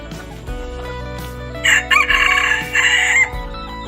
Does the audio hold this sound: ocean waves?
no